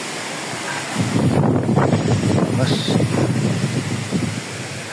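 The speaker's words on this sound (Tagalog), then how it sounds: "malakas po ng hangin" Strong typhoon wind roars and buffets the microphone in loud, rushing gusts during heavy rain, with a voice faintly audible underneath.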